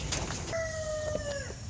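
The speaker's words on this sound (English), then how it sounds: "You hear the old roosters crowing now too" A rooster crowing on a farm, one clear drawn-out crow of about a second, heard at moderate distance over steady background noise.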